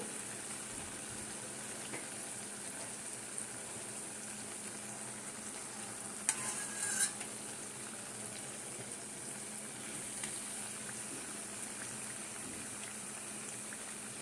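Jalebi batter bubbles in hot oil in a kadai, a faint, steady hiss and fizz throughout, with one brief clink partway through and no talking.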